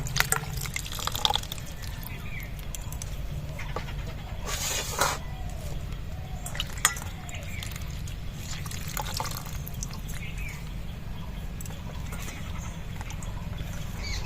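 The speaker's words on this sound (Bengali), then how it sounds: "মাশরুমটা আমার কাটা হয়ে গেছে, ধুয়ে তুলে নেব।" Cut mushrooms are washed in a bowl of water, with soft sloshing, scattered drips and splashes, and a few sharper knocks against a quiet background.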